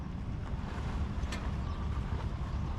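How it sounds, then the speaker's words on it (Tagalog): Fishing boats coming in from open sea to a busy fish port in Quezon province, heard as a steady low engine drone with wind buffeting the microphone, continuous and moderately loud. "may mga bangkang paparating ngayon oh"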